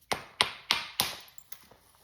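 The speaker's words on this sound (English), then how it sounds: "Nice little hit with a hammerstone." A hammerstone strikes a pumpkin obsidian slab during flint knapping. It makes a series of sharp, bright clicking taps, four clear ones followed by fainter ones, each decaying quickly in a quiet space.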